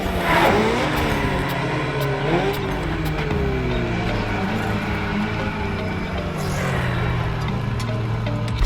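A Ferrari F40 in The Crew Motorfest racing game revving loudly and close, the engine note climbing and falling through repeated surges over a steady drone for several seconds.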